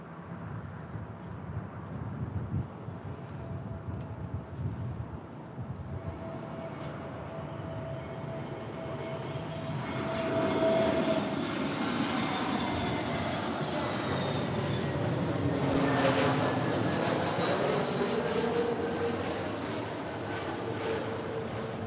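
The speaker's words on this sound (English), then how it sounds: "that is Delta Airlines flight 822 heading to Orlando, Florida." A Delta Airlines Boeing 737-900ER jet airliner at LAX, bound for Orlando, gives a steady engine roar that swells to a louder, broad rush midway, then eases slightly, with no talk.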